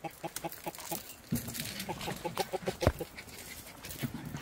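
Chickens cluck in quick, rhythmic runs of short notes, close by on a rural farm, with some scattered background noise.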